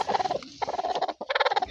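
Rapid, throaty clucking and gobbling from hens close by, in quick rippling bursts with a brief pause in the middle.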